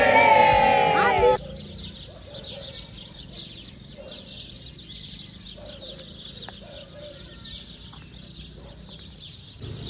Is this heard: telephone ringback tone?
no